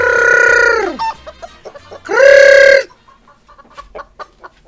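Chickens and a rooster at a farmyard, with two loud close crows separated by a pause, followed by scattered soft clucks and pecking sounds.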